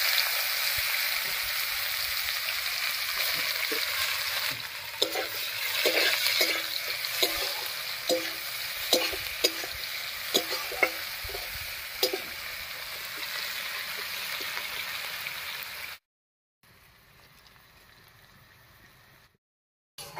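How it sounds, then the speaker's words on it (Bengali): Chopped onion fries in hot oil spiced with whole cumin, giving a soft, continuous sizzle broken by repeated scraping clicks of a stirring spoon. The sound cuts out abruptly near the end. "ফোড়নের উপরে পেঁয়াজটা দিয়ে বেশ লাল লাল করে ভেজে নিয়েছি"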